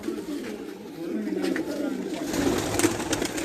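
Breeder pigeons at a champion fancier's loft in Dina, Jhelum, coo in low, rolling phrases that overlap and repeat, close and steady, with faint background noise.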